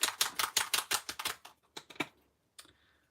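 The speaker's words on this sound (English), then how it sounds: "Let's spray it with pink." Pink spray paint is sprayed onto a craft project in a series of short, rapid hissing bursts, close by, followed by a pause and one last brief spray.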